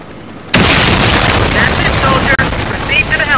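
A bomb detonation in the video game Warface bursts in loudly and stays as a sustained, roaring blast with rumbling debris. A short cut interrupts it partway through, and faint whistling tones ring over the noise.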